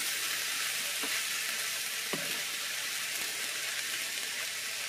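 Salted peppers and onions frying in a pan on a stove burner turned down low, a steady soft sizzle and crackle with a couple of faint clicks, heard alone throughout.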